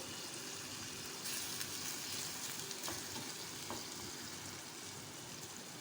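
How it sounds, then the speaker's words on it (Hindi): Tomatoes, green chilies and coriander frying in a pan over medium flame, a soft steady sizzle with a couple of faint stirring clicks, no talking. "हम 1 मिनट तक अच्छे से फ्राई करेंगे"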